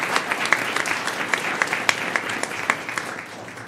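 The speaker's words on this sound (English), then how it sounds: "Let's give them a round of applause." An audience applauds a school district child nutrition team at a governing board meeting, with steady, moderately loud clapping from a room of people and sharp individual claps standing out through the crowd.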